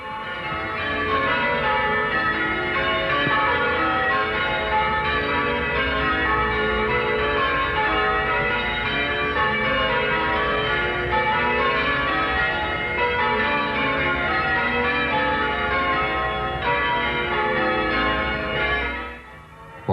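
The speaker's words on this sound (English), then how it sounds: "One gets the bug for bell ringing." Church bells ring in a continuous cascade of changes, many bells sounding one after another in steady rhythm for the whole stretch.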